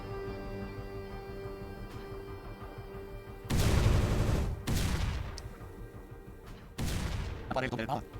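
Heavy gunfire and explosive blasts in a video game battle, loud dense volleys arriving in bursts after a steady musical backdrop, with voices heard at times.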